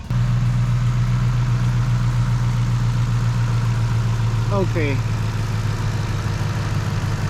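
A car engine idles steadily with a low, constant hum throughout, running on an AGM battery fitted with a voltage booster, while a voice speaks briefly partway through.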